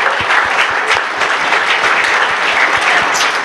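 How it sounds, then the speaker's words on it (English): An audience at a cannabis-event talk gives a quick round of applause for John Stossel: loud, continuous clapping from a sizable crowd, with distinct nearby hand claps standing out in the wash. "quick round of applause for John Stossel"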